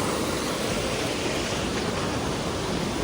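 Loud, unbroken rushing water fills the scene, a steady broadband roar like a nearby waterfall with no pauses or voices.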